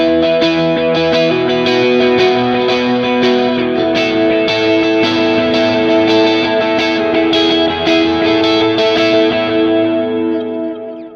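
Electric guitar through dotted-eighth and eighth-note delays on a Line 6 Helix, picked notes cascading into a dense, shimmering wash of repeats with a galloping rhythm, sustained and loud before tapering at the end.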